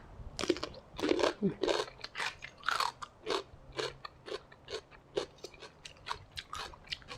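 Close, rhythmic crunching and chewing of a pounded cuttlefish salad dressed with fermented fish sauce, with repeated bites and wet mastication sounds in regular bursts and no talking.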